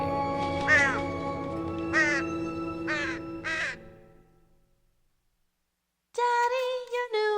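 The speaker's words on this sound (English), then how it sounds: "The light from the skull's eyes changed Baba Yaga into a crow" Four loud crow caws ring out one after another for a children's story about Baba Yaga, followed by a brief silence and then a burst of further cawing.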